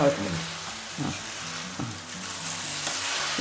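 Sabudana khichdi with onion and green chilli tempering sizzles steadily in a pan over a medium flame, with a few soft stirring scrapes breaking through the continuous close frying hiss.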